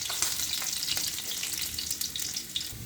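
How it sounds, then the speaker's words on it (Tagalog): Garlic and ginger frying in hot cooking oil in a pan, a steady bright crackling sizzle with scattered pops, close and without speech. "Ilagay na po natin ang ating garlic."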